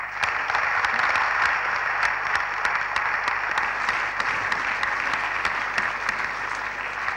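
Warm, continuous audience applause for election candidates at a 1976 election gathering, dense and even, with individual claps standing out now and then.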